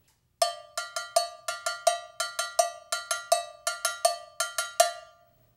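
Cowbell held loosely and struck in a quick repeated pattern, each hit ringing a bit longer with a metallic sustain, close and alone without speech.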